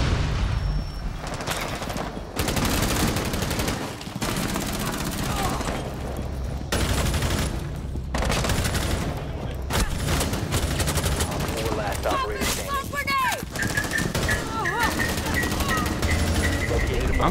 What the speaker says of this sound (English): I just shot a teammate.